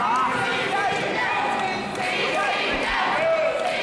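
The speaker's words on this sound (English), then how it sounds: "Crowd here chanting for CCW." Wrestling crowd at an indie pro wrestling show chanting for a wrestler, a loud, steady wall of voices with rhythmic rises that fills the whole stretch.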